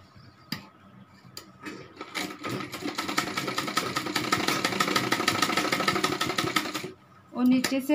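Sewing machine running steadily for several seconds, stitching rubber elastic into the waistband of palazzo pants, with a brief pause and restart near the end; a voice speaks over part of it.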